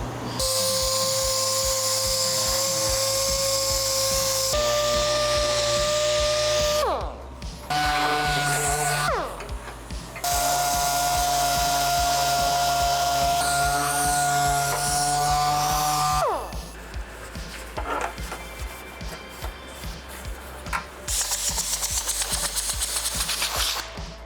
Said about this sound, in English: I'm gonna sand that with 80 grit.